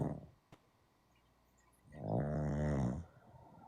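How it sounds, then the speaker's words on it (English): Someone snores once in a loud, drawn-out rasping breath, close by, after a quiet stretch with a faint click. "You got somebody snoring in your background"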